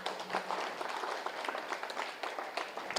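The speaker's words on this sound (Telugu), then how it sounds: "గట్టిగా చప్పట్లు కొడదాం" A crowd applauding loudly at a gathering, with dense, steady clapping that carries on through the whole stretch and no talking over it.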